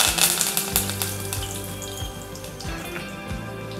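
Turmeric and curry leaves sizzling in a pan for a Mokali Bhajani breakfast dish, producing a steady close hiss and crackle with a few brief louder spits.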